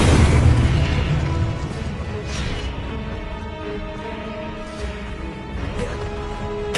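Incendio fire spell cast in Hogwarts Legacy, a dense booming burst of magical fire that opens loud and settles into a sustained crackling rumble with whooshing swells, no talk over it.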